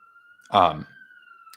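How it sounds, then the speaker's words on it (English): A faint, steady siren tone hangs in the distance while a voice briefly speaks over it up close. "Sorry, there's a siren in the background."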